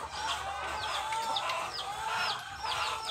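A mother hen at feeding time clucks and calls repeatedly in a farmyard, her short chirping notes close and clear over a steady background hum, no talking.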